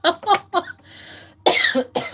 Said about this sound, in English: Sorry for coughing in your guys' ear.